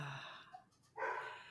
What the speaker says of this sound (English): Did she walk in there specifically to bark at you?